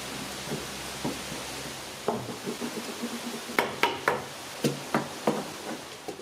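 Cedar deck boards are set in place with hollow wooden knocks and clunks, starting sparse and then settling into a quicker series of sharp taps at close range.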